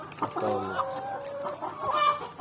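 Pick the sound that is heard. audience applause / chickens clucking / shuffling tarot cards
chickens clucking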